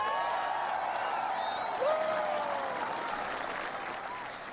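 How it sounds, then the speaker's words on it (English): A large crowd aboard the aircraft carrier USS Abraham Lincoln applauds and cheers President Bush's speech, a dense, sustained roar of clapping with shouts and whistles, steady then gradually easing. "And the crowd went wild."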